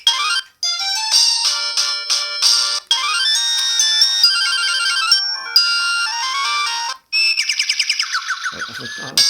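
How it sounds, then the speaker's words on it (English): A Samsung SGH-E300 ringtone from 2004 plays a bright, bell-like melody of quick plucked notes, pausing briefly a few times, ending with a rapid run of chiming tones. "The beautiful ringtones on this one."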